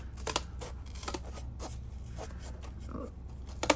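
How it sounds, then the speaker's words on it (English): Serrated scissors snip through household cardboard with a series of quiet, crisp cutting crunches in irregular bursts, close by in a calm indoor room, with no talking. "And these are just like really good serrated scissors"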